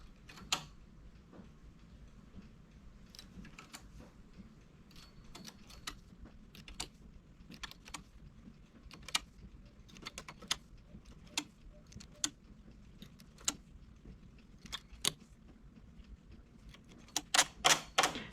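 A domestic knitting machine being worked to close a sleeve hem, giving sparse sharp mechanical clicks and clacks at irregular intervals, fairly faint and close, with a quicker cluster of clicks near the end.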